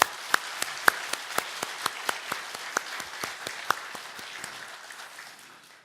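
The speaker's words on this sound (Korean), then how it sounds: "다시 한번 힘찬 박수로 격려해 주십시오" Congregation applause at a church service: a steady run of separate, evenly spaced claps at moderate loudness, gradually fading over several seconds with no voices.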